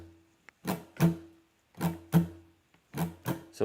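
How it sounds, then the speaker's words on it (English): Guitar strummed with a swing shuffle feel, heard alone as pairs of close strums in a long-short pattern, clear and near, with short gaps between groups. "If we wanted to swing it or give it a shuffle, it would sound like this."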